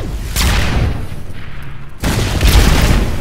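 Rocket blasts boom during a team video game match, two heavy explosive bursts with rumbling tails and a brief quieter gap between them, loud and close.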